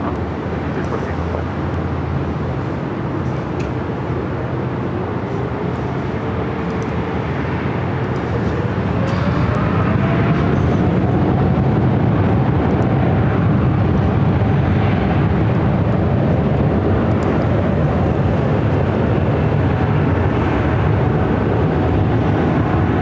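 A Delta airliner takes off from runway 24 left at LAX, a loud, continuous jet roar that builds and stays heavy for the whole stretch, heard from a distance with broadband rumble.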